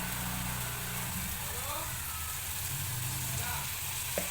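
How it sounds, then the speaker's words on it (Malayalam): Onion frying in a pan as turmeric powder goes in, a steady soft sizzle running throughout beneath a faint low hum. "അതിലേക്ക് നമുക്ക് കുറച്ച് മഞ്ഞൾപ്പൊടി ഇടാം."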